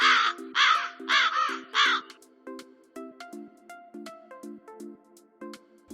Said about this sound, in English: the sound of crow